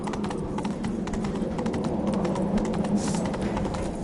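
Roach the horse's hooves clip-clopping at a steady brisk gait in a video game, continuous rhythmic hoofbeats close up and fairly loud.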